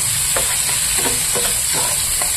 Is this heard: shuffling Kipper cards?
no